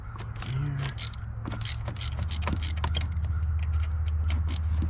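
A ratchet clicks away at a 10 mm bolt on the 6.0 engine of a 2004 Chevy 2500HD, giving rapid, close metallic clicks over a low steady hum.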